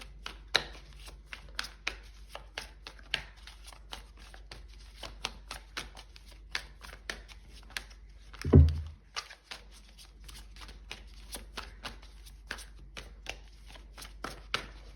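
Tarot cards being shuffled by hand, a steady run of soft, quick riffling flicks close up, with one louder thump or knock partway through and no talking.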